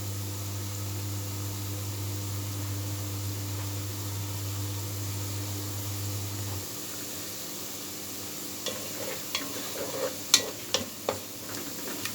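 An onion fries in a pan toward golden, giving a soft, even sizzle. A low electrical hum runs beneath the first half, and a few sharp utensil clicks and taps come near the end.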